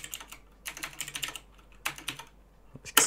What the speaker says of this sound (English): excuse my typing